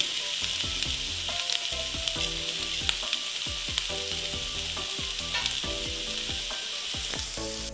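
Grated carrot, cabbage and chopped ginger for momo filling fry loudly in a pan, a constant hissing sizzle broken by frequent scraping stirs, with no voices.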